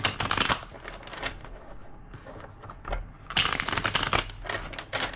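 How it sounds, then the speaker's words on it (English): Tarot cards being shuffled by hand, crisp riffling bursts in two clear bouts separated by a short pause, close and fairly loud with no talk. "2 more shuffles."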